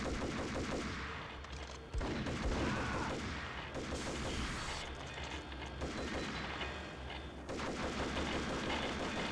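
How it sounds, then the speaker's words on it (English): Gunshots in Max Payne, heavy repeated automatic fire and booming shots in close, loud bursts, with brief gaps between volleys and no talking. "I can't even shoot him from here because I keep hitting the railing"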